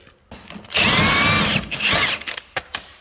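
Power tool whirring as it removes a 14 mm bolt from a Yamaha Apex snowmobile during a track change, one close, loud burst of about a second followed by brief clicks and clatter.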